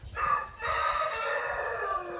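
A chicken cackles and clucks in a loud, sustained run of harmonic calls, with a short pause early on before the calling resumes and continues steadily, fairly close by.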